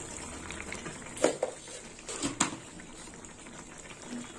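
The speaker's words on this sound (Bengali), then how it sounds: "আর একটু ফুটবে।" Okra and poppy seed curry bubbling in a pan, a low steady simmer with a handful of soft plops and pops scattered irregularly, close but quiet, with no talk.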